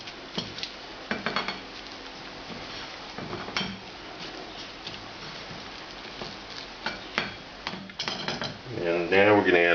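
Coarsely chopped spinach, about half an ounce, is added and stirred into a thick sauce in a pan on low heat for eggs Florentine; repeated utensil clinks and scrapes against the pan, close, with some talk in between.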